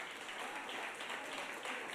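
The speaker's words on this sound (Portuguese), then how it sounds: "pode aplaudir." Church congregation applauding during a sermon, a steady dense wash of clapping throughout, moderately distant and even in level with no talk over it.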